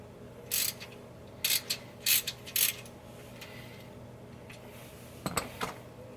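A ratchet and socket work loose the plug on a fourth-generation vehicle's differential, giving a few short bursts of metallic clicking in quick clusters, then a pause and a final brief rattle, close and fairly clear over quiet background.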